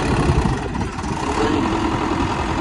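A Mahindra 575 DI tractor engine runs steadily at medium throttle in a field, a close, continuous low rumble with no talk over it.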